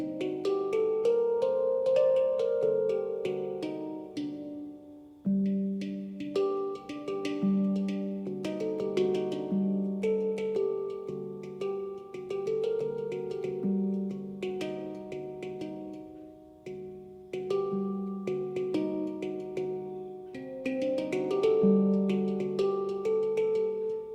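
A handpan played outdoors on a nature walk in Massachusetts rings with steady melodic notes and sustained overtones. The phrases flow continuously for over twenty seconds and are heard alone, with no talk.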